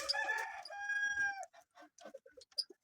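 A rooster crows loudly and close in a poultry yard, one full crow, followed by a scattering of short clucks from hens.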